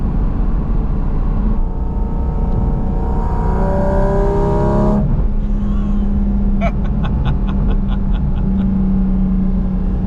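Porsche GT4 RS engine revving hard while driving, a loud rising howl that climbs through the gears, breaks off at a shift and settles into a steady drone under road rumble, with brief talking.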